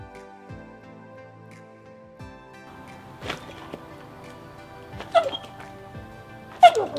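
A Dogo Argentino during an intensive training session gives faint whimpers and soft yips, with a few sharper knocks and movement sounds scattered across a quiet room.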